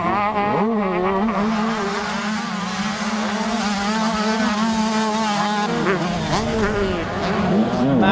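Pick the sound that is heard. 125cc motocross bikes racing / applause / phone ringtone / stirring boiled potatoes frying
125cc motocross bikes racing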